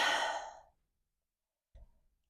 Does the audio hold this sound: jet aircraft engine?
no